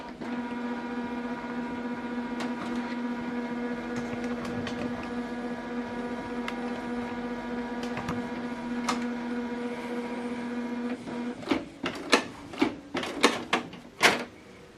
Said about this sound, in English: This document right now is printing out.